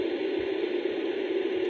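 White-noise setting on a Munchkin projector sound machine produces a flat, continuous hiss at a steady level, loud and close with no variation.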